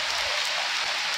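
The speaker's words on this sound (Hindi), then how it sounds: "बहुत ही बारिश हो रहा है" Heavy rain falls steadily during a trek to Butterfly Beach in Goa, a dense, even hiss of drops filling the whole moment without a break.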